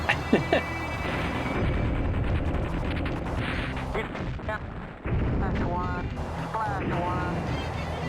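Bombs burst in the Fighters Anthology flight sim during an airfield strike, heavy rumbling explosions and booming impacts rolling continuously over several seconds with aircraft engine noise beneath, one sharp drop-off midway before the barrage resumes.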